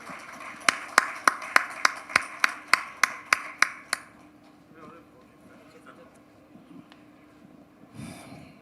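At a Tamil film audio launch, about a dozen sharp, evenly spaced claps ring out in a quick, close run lasting several seconds, then the space goes quiet apart from faint background murmur.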